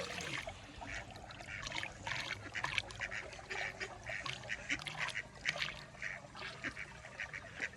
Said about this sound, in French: c'est devenu un parc avec tous les canards.